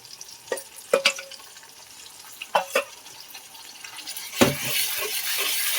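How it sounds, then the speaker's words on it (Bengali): Ginger and garlic paste fry with tomatoes in a pan for chicken with puishak, as a few spoon knocks and scrapes give way to a rising, continuous sizzle. "টমেটোটা ভাজা হয়ে গেছে, এবার আদা বাটা, রসুন বাটা দিয়ে দেবো।"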